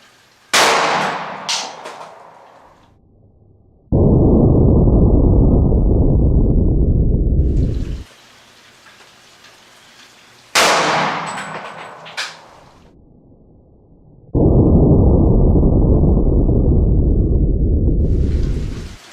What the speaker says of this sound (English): There's the shot from the XDS